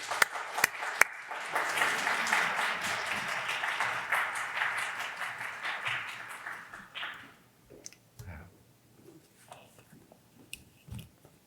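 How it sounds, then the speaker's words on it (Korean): Applause from a church congregation welcoming the pastor at Sunday worship, swelling and holding for several seconds, then tapering to scattered claps and quiet room sounds. "우리 박수로 크게 환영하도록 하겠습니다."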